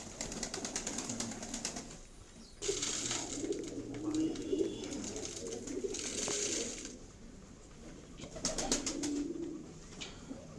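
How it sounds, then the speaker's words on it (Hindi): Pet pigeons cooing repeatedly, soft and close, with several overlapping low calls in bursts and faint rustling between them, over quiet background noise. "शख्स जिसका नाम बबलू है, उसका कहना है कि वो सुबह 7 बजे से लेकर रात तक कबूतरों की सेवा में लगा रहता है।"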